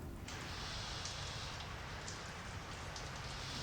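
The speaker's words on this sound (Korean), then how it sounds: "아기들 잘 때 틀어주는 백색 소음이요" Rain white noise played for a baby's sleep: a dense, steady patter of raindrops with a soft hiss, starting abruptly and continuing evenly, fairly quiet and alone.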